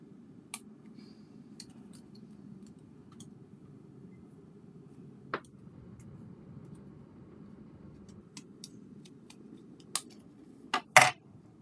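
Scissors trimming paper for a Halloween scrapbook layout, with sparse, quiet snips spread over a low background and a couple of sharper, louder cuts near the end.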